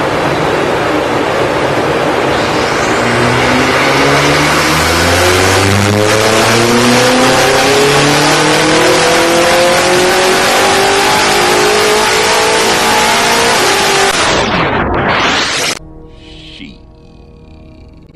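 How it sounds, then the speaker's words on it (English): A modified BMW M5 F90 LCI, race chip tuned, runs up on a dyno, its engine note climbing loudly and continuously through the gears for about fifteen seconds before cutting off sharply into quieter background sound. "Took the car to the dyno for the first time."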